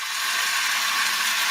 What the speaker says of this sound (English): That's the sound of extremely tender and delicious beef from Certified Piedmontese.